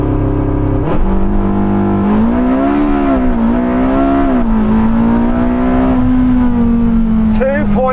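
A Porsche 918 Spyder accelerates hard during a timed launch run on warmed tyres. The engine's loud, steady roar rises and dips slightly in pitch and runs without a break for the whole stretch.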